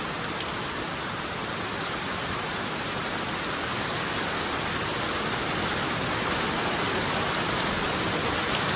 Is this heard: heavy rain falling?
yes